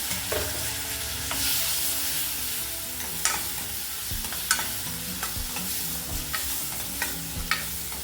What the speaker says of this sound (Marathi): आता यामध्ये मी जो बारीक चिरलेला टोमॅटो होता ते टाकून घेते.